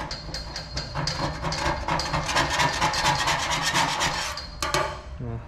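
Acrylic paint being scraped off a car underbody on a Holden HZ ute, a loud, close rasping that repeats in quick strokes for several seconds and then ends with a few scuffs.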